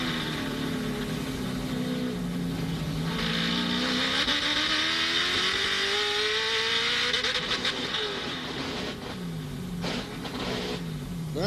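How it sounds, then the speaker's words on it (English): A loud touring or GT race car engine at Sebring screams and revs hard, pitch climbing steadily before stuttering and cutting out in choppy bursts against the rev limiter near the end. "you heard right there what that noise was going up under the rev limiter"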